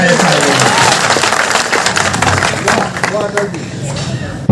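Audience at a Mahashivratri poets' gathering in Timarni claps loudly and steadily, a dense, continuous wash of applause that is close and sustained throughout, with voices mixed into the crowd noise.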